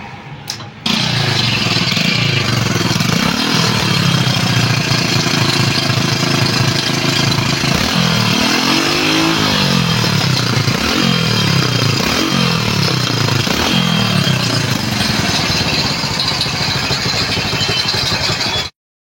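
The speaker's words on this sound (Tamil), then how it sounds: "இந்த சைலன்சர் வந்து ஓட்டையாயிருச்சு, டேமேஜ் ஆகிடுச்சு" A Hero Honda Splendor motorcycle engine with a holed, damaged silencer runs loud and rough without pause, a harsh rattling exhaust roar that rises and falls with throttle blips.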